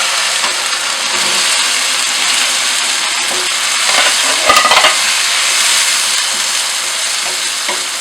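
Golden-brown onions frying in a pan as garlic-ginger paste and potatoes go in: a steady loud sizzle with a brief clatter and stirring midway, no voices.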